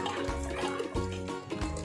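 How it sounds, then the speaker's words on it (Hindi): Water trickles and sloshes into besan batter while it is stirred for Sindhi kadhi. A brief, close-up liquid swirl sounds in short pulses. "धीरे धीरे हिलाते रहिए और थोड़ा थोड़ा पानी डालते रहिए"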